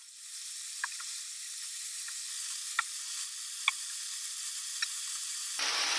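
Tiger sauce simmering and reducing to a glaze in a pan, a steady close sizzle with a few faint pops and bubbles, ending in a louder burst of hiss.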